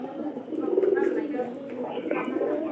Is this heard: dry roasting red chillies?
no